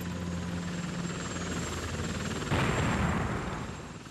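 A helicopter flies overhead in a Vietnamese wartime drama, with loud continuous rotor thumping and a steady whine that swells and grows brighter midway, then begins to fade.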